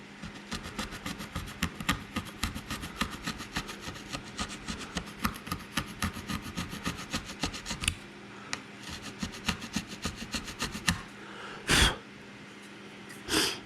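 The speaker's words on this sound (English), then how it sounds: "Even with the plastic scraper, it's scratching." A plastic scraper rasps across the surface of a Corvette C4, a dense run of quick, close scraping strokes for about eight seconds, then sparser, louder individual scrapes and bumps.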